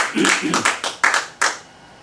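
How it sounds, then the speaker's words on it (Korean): A small audience at a training lecture gives a brief smattering of applause, about half a dozen distinct, close hand claps in an uneven rhythm that thins out and fades within two seconds. "박수 한번 주시죠."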